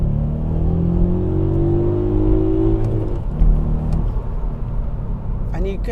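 A VW Up GTI pulling hard in second gear, its engine note climbing in a smooth rising rev for about three seconds before easing into a low rumble, heard from inside the car with a voice talking over it.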